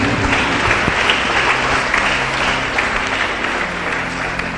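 Congregation in a church service applauding loudly and steadily, a dense continuous clatter of many hands close by with faint voices mixed in.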